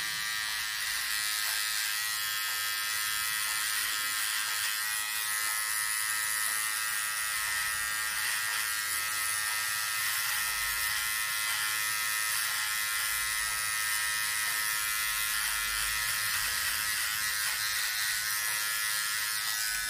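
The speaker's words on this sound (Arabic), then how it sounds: "دابا غادي نديروا واحد الطراساج بسيط هنايا غير بالماكينه" An electric beard trimmer runs without its comb, shaving a beard line in a steady, continuous buzz that lasts the whole stretch at close range with no talking.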